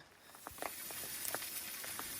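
Rain patters steadily on the fabric of a rooftop tent, a dense, even hiss with scattered louder drops tapping close by.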